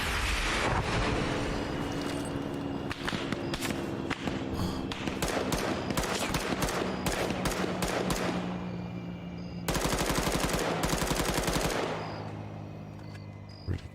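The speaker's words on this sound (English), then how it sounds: "I'm going to try RPG here." Gunfire and rocket-launcher blasts in the video game Antistasi ring out as a long, dense barrage of loud shots and booms, with a second heavy burst near the end.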